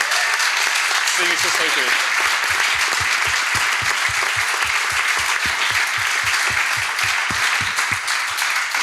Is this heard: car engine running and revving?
no